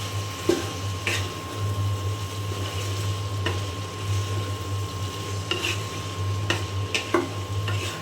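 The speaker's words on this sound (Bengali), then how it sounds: "তো এখানে আমার পোস্তা ভাজিটা হচ্ছে, আমি নেড়ে ছেড়ে দিলাম।" Poppy seed bhaji cooking with turmeric and salt in a pan, a soft continuous sizzle under intermittent scraping and clinking stirs of a spatula against the metal, close and moderate, with a low steady hum in the background.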